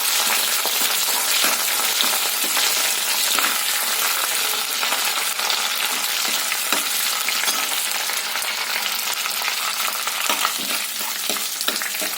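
Green chillies fry in hot oil with mustard seeds and fenugreek for a Kerala prawn curry. The sizzle is steady, dense and crackling, with faint stirring, and no voices are heard.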